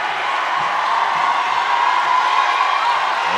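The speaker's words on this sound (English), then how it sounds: "And this crowd is thunderous." A packed high school basketball gym crowd roars during an East Coweta vs. Therrell game, a continuous loud wash of cheering and whooping with no clear breaks.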